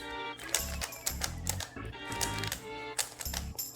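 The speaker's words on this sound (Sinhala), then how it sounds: "මේක ඉස්සල්ලාම ඔයා හොඳට මේක ෂෆල් කරගන්න ඕනේ." A 3x3 Rubik's cube being shuffled by hand, its plastic layers giving rapid, irregular clicking and clacking turns, close and fairly quiet, with no talking.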